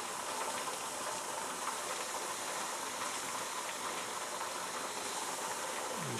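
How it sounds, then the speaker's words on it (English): Steam hisses and sizzles steadily on the hot lid of a pressure canner holding venison, a constant close broadband hiss with no breaks and no voices. "It's sizzling pretty good right on the lid, so you won't want to be touching that."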